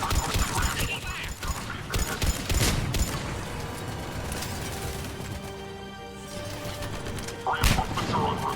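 Gunfire in a Mass Effect 3 sci-fi battle: dense bursts of shots and impacts, crashes and mechanical clatter filling the mix, with voices calling out under the noise.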